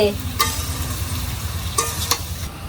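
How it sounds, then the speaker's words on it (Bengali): Fish being stirred in a pan, small puti fish for an ilish and taro-leaf meal, with a low steady sizzle and a few sharp scraping strokes, close by. "প্রথমে একটু আলতু করে নাড়া দিব"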